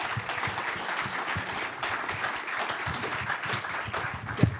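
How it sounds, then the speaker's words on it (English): Steady, dense clapping from an audience at a live business and faith event on sales, sustained evenly for several seconds with only a faint voice near the end. "If you could give them a round of applause."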